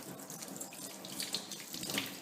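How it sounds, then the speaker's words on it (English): Rubber stamps being washed under a running tap: a steady, close hiss of flowing water with splashy fluctuations as each stamp is rinsed, no voices. "And I wash every single one of them, just like so."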